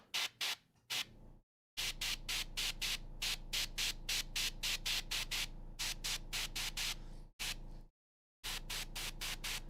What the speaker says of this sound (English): if I just spritz a little bit of this, and it is just a spritz